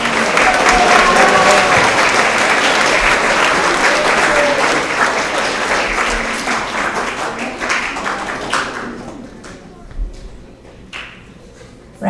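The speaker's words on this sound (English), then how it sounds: "Round of applause for all these wonderful leaders." Loud, dense applause from a school audience at a grades 6–8 spring award assembly, building into a sustained roar of clapping that fades after about eight seconds into scattered claps and quieter room noise.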